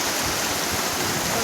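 Water of the Ulhas river gurgles and rushes in a steady, broad wash, close and continuous, with no voices.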